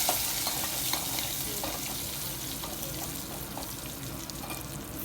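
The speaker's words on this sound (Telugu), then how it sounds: "అలాగే కరివేపాకు కూడా వేసేసుకొని మంచిగా పోపుని మాడిపోకుండా ఈ విధంగా సిమ్లో పెట్టి వేయించుకుందాము" Curry leaves and dried red chillies tempering in oil over low heat produce a soft, even crackle and sizzle with light stirring taps, nearby and unvoiced.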